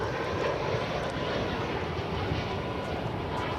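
Spirit airliner in Skittles livery at DFW airport, a steady, fairly loud jet engine roar holding broadband and unbroken throughout with no voices.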